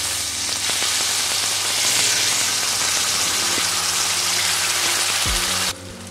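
A sizzling tempering of white and black mustard seeds poured into green coriander chutney, a loud, steady hiss that cuts off abruptly near the end, with faint tonal music beneath.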